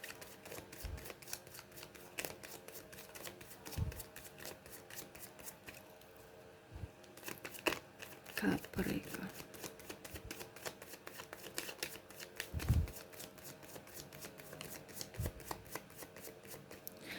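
Tarot cards shuffled continuously by hand, a steady riffling patter of soft slaps and flicks running throughout with a few louder taps, close and clear with no talking.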